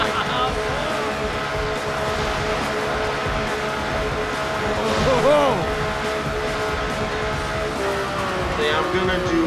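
Beta-version car engine from the Cars Mater-National Championship Wii prototype racing game, a steady droning motor hum with shifting pitch sweeps and game effects layered over it, loud and continuous throughout.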